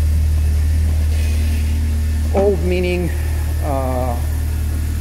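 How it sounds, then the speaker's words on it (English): The engine of a 2016 Oreion Reeper Sport 4x4 runs at a steady, loud idle with a deep low drone from the exhaust, while someone speaks briefly over it. "You can see a nice instrument cluster, and the vehicle starts right up."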